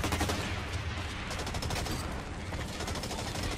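Dense, continuous gunfire from covering fire in the shooter game Blacklight Retribution, a steady busy crackle of shots running throughout at fairly low level.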